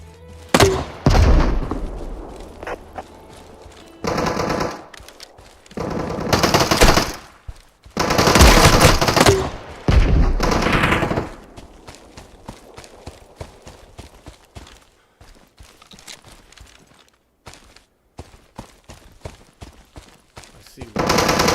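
Gunfire from bots in the video game Deadside, with bursts of rapid automatic shots and single loud cracks separated by quieter gaps, some close and heavy, others fainter, with a voice briefly heard among them.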